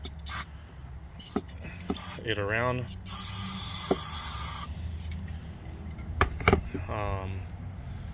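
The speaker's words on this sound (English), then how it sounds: "My idea is to just go in there and kind of just spray" A burst of carbon choke cleaner spray hisses steadily for about a second and a half on a 2004 Jeep Grand Cherokee WJ, with someone talking close by before and after it.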